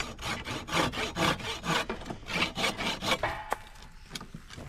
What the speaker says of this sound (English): I'm going to take a section of this branch, cut it to length, and then drill out the center